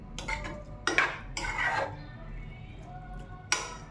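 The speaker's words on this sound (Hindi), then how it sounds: "चलाते हुए बहुत अच्छे से पकाना है इसको एक मिनट।" Metal utensil scraping and clinking in a pan while beetroot halwa cooks with a glass of milk, several distinct stirring strokes in quick succession, fairly close.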